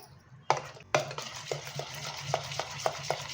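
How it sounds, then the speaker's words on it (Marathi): A spoon or whisk beats chana dal khaman batter in a bowl, giving a steady series of sharp, close scraping taps in an even rhythm, with no talk. "तीन ते चार मिनटं छान असं फेटून घेऊया"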